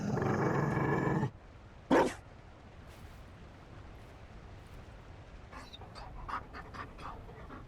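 A Mabari war dog in Dragon Age Inquisition pants loudly and steadily up close for just over a second, then a single sharp bark or growl-like burst follows, and faint scattered snuffles and small noises trail off afterward.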